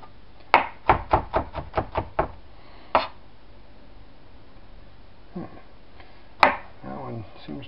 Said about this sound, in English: now we have to cut the end. This is whole garlic that is kept in oil